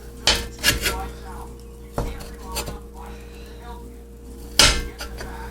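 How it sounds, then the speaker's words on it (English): A utensil chops softened frozen meat against a pan while cooking spaghetti sauce. Several sharp, loud clanks come in a loose cluster, then isolated knocks, over a low steady hum. "this piece right here is probably soft enough I could just chop it all up right now"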